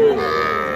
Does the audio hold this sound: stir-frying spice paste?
no